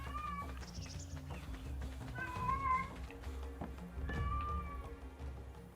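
A cat meows repeatedly in the video game Ark: Survival Evolved, with several drawn-out, wavering cries over a steady low game rumble and faint footstep taps.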